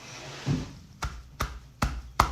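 Cupped hands clapping hard against the chest to loosen phlegm, four hollow, thumping slaps at a steady, deliberate rhythm, close and clear after a softer first pat.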